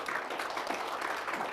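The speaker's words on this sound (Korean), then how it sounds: "박수 한번 치셔야 돼 이거" Listeners at a leadership lecture clap briefly, a short, moderately faint patter of many hands with no voices over it.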